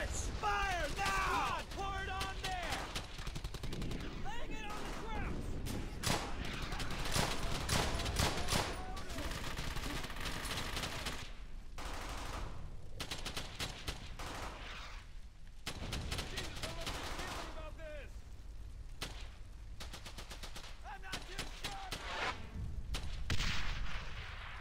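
Bursts of rifle and machine-gun fire in the World War II shooter Brothers in Arms: Hell's Highway, rapid volleys and scattered shots with shouting soldiers between them.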